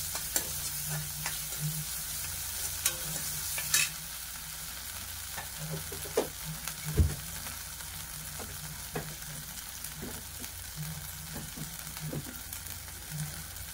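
Ginger garlic paste fries and sizzles softly in a pan for a cashew butter masala curry, with occasional spoon scrapes and clinks as it is stirred, heard alone and fairly quiet.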